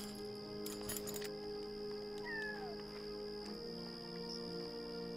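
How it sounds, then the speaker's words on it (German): A cat in the video game Yonder meows twice in quick succession, a short rising-and-falling call, over a steady background hum of game ambience with faint clinks early on. "Du bist doch eine Katze, oder?"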